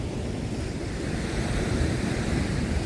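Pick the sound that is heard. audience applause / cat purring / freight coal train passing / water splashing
water splashing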